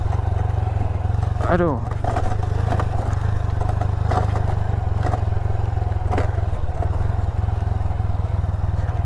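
A motorcycle rides along a rough road toward Jung Pakis beach in Tulungagung, its engine droning steadily and close throughout, with clatter and scraping over the bumps and a voice exclaiming briefly near the start.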